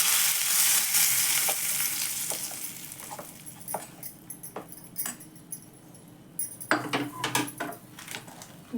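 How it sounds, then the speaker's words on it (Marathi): Cumin seeds and curry leaves sizzle hard in hot oil for a chutney tempering, a loud hiss at first that settles into crackling pops and a few clinks of a spoon or pan, with no talking. "फक्त जिरे आणि कढीपत्त्याची फोडणी घालणार आहे"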